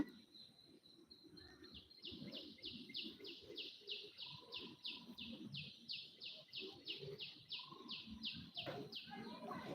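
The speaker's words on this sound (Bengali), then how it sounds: "পাখির ডাক অনেক কিছু আর কি শোনা যাচ্ছে" Birds call repeatedly in an outdoor rooftop setting, a steady run of high chirps through most of the stretch, with faint background voices and ambient noise underneath.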